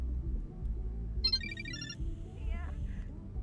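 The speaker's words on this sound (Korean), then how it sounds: "전화 왔어요." A phone ringtone plays a short bright melody for a little under a second, with a few tonal notes following, over a continuous low background hum in a karaoke room.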